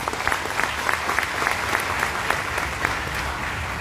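An audience at an event applauds its guests with a dense, even round of clapping that holds steady from start to finish, and a few sharper claps stand out.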